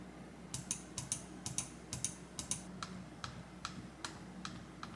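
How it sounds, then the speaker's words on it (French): Dareu A970 gaming mouse buttons clicking, a series of sharp, fairly loud close-up clicks in an irregular rhythm, alone in a quiet room. "Le bruit des clics est assez prononcé."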